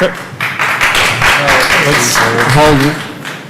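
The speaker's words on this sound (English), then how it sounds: "I think we have rules around applause." Scattered audience applause breaks out at a planning and zoning commission meeting, a short burst of clapping mixed with voices talking over it.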